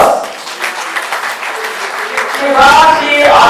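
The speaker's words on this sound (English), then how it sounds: "Please give her another big round of applause" A crowd at a women's league celebration gives a round of applause, clapping rising under a voice speaking over a loudspeaker, growing louder toward the end.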